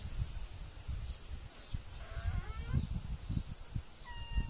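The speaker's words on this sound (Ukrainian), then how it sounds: "Кіт тим часом пасеться." A cat meows a few times nearby, short tonal calls over steady low background rumble and handling noise, indoors while a brush for Petrykivka painting is being made.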